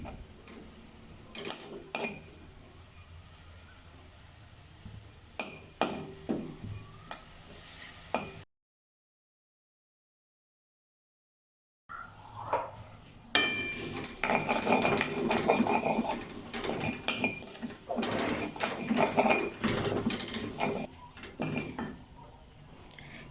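A metal spoon scrapes and clinks against a pan as dried shrimp are stirred and dry-roasted over low heat, with light sizzling. The rhythmic scraping runs on and off, with a silent gap midway, close and clear, and there is no talk.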